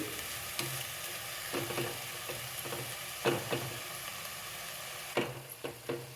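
Methi (fenugreek leaf) vegetable cooking in a pan, a quiet steady sizzle broken by clusters of close spatula stirs and scrapes, no talking.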